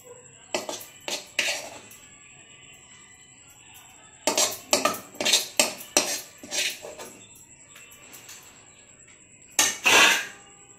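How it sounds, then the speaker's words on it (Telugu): Pickle being scooped into a bowl with metal utensils, giving clusters of sharp clinks and taps in three bursts with quiet pauses between, close and fairly loud with no talking. "గిన్నెలోకి అయితే తోడుకుందాం"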